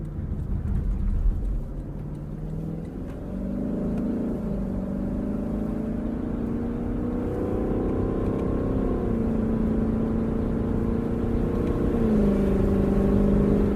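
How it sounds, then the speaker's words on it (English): A 2021 Lexus LC 500 Convertible's engine revs steadily and loudly with rising and falling tones through several downshifts, heard from inside the cabin without talk. "think the downshifts are my favorite. It's just a symphony."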